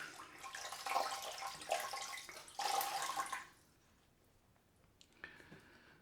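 A Wade & Butcher straight razor rinsed in a small bowl of water, giving close splashing and swishing for a few seconds, then a quiet stretch and a faint clink.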